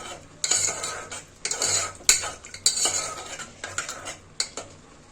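A spoon clatters and scrapes in a pot as rice, water and broccoli are mixed for a baby food recipe, sharp irregular metallic knocks over a wet stirring swish, with no talk.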